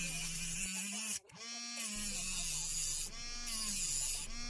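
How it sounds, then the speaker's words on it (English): A Dremel rotary tool with a cutoff wheel cuts a part for a Hummer H3T concept model, giving a steady, close, buzzing motor whine that briefly drops out and then resumes. "cut it with the cutoff saw on my Dremel"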